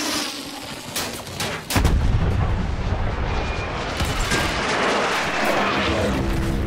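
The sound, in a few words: anti-tank gun firing in video game Battlefield 1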